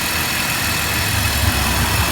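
A BMW 525i 5-Series engine idles with the hood open, giving a close, steady low rumble with an even mechanical vibration throughout.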